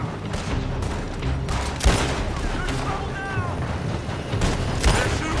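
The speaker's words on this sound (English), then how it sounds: "They're shooting from that building." Bursts of gunfire in a Red Dead Redemption 2 town shootout, with sharp shots and scattered booms over a busy mix, with voices and other game sounds underneath.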